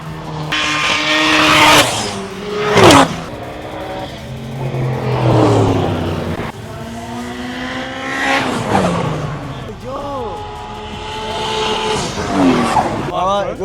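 Several roll-racing cars, including a Mitsubishi Evo, scream past at speed with rising and falling engine notes, fast gear changes and tire squeal. Multiple passes come near and loud, mixed with crowd and commentary sounds.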